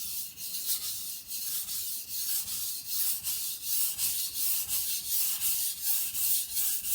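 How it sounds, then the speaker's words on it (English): A knife blade is drawn repeatedly across a sharpening stone under heavy pressure, making a steady series of close, rhythmic gritty scraping strokes, each rasp rising and falling in loudness. "The sharpening is taking place directly below my fingers, where I'm applying a heavy amount of pressure"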